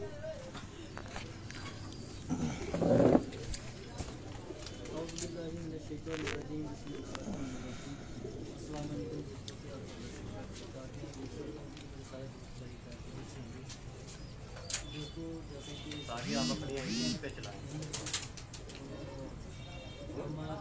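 Soft low pigeon coos repeat through a murky, noisy background, with a brief louder rustle and scattered faint chirps.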